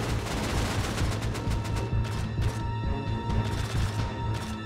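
Dense, sustained automatic gunfire from a multiplayer Rust raid, rapid loud bursts overlapping with crashing impacts and no pauses throughout, close and harsh with no talking.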